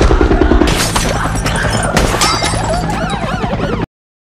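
Film action scene: window glass shatters in a loud crash with a sharp gunshot boom, debris tinkling and scattering for a few seconds before cutting to silence.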